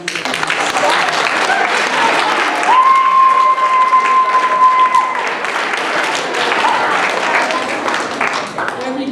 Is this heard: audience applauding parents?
yes